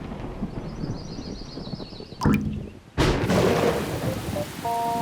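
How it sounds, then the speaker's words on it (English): Cartoon storm effects from the Super Wings animated series: soft rain hiss, then a sharp thunder crack, followed by a second loud clap that gives way to heavier steady rain. "I'm curious, where's the rain? Rain, rain, rain."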